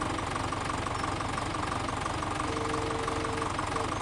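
Tractor engine idling in Farming Simulator 17, a steady loud rumbling drone with a rhythmic knocking pulse throughout, alone with no talk.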